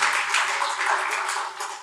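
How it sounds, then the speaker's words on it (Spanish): A church congregation claps for the Lord during a service, with steady, dense applause that holds evenly throughout and fades slightly at the end. "Da un aplauso al Señor porque Él nos trajo acá."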